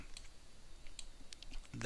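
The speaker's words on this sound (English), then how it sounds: "I can click those and type in a unit." Computer mouse clicks and keyboard keystrokes while working in Maya 2016 3D software: a few sparse, close clicks, then a quick cluster of taps at the end.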